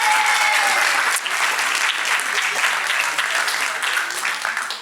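Sustained audience applause for the speaker Roland Lehoucq at a science conference, a dense, steady wash of many hands clapping that stays loud throughout with slight dips.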